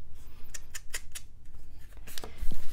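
Scissors cut paper for a Christmas mini album, with a quick series of close, crisp snips, a short pause, then a few more cuts, and no talking.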